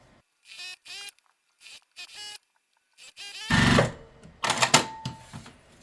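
A sewing machine stitches fabric pieces chained together in short bursts of fast, rhythmic needle hammering, separated by pauses, then louder handling clatter and fabric rustle close by.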